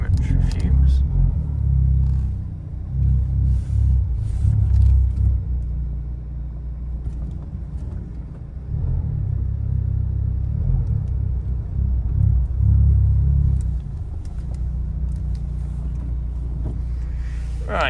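A 2016 Honda Civic Type R engine idles and revs with a deep rumble inside a car showroom, rising and falling through the clip, while a person talks quietly over it.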